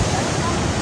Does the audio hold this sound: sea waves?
yes